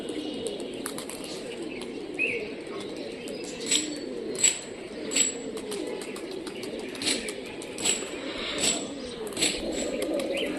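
Rajshahi Giribaj pigeons give soft, repeated cooing calls amid steady bird chatter, with occasional brief wing flaps rising above a constant low background murmur.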